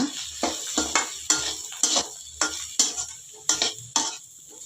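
Cauliflower and fenugreek-leaf dry fry being stirred in a pan after chilli powder and salt go in: close, rhythmic scraping strokes, about nine in a steady beat, with no talking.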